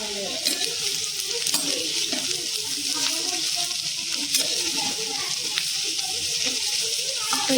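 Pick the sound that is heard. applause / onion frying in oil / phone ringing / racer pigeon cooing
onion frying in oil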